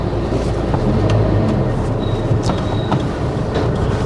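A train rolls past close to a road in India, a loud, steady rumble with rhythmic wheel clatter and a brief high squeal, heard continuously without talk.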